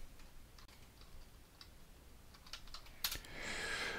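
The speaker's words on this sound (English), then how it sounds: "if you type SCP and press enter with no other arguments" Quiet, scattered keystrokes on a computer keyboard entering a secure copy command in a console, a few soft taps spread over a steady low background, with a sharper burst of clicks near the end.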